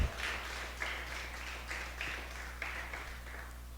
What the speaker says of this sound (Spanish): ¿Puedo darle un fuerte aplauso al Rey de Reyes?